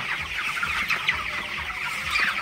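Broiler chickens on a farm at about three weeks old, a flock clucking and chattering continuously at close range, steady and fairly quiet, with no talking.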